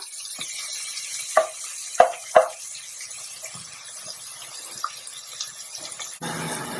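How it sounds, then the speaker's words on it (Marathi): Onion softens in a pan for prawn pulao, a quiet low sizzle broken by a few sharp spatula knocks early on and soft stirring scrapes, close and without talk. "कांदा मी असा छान थोडासा मऊ करून घेणार आहे"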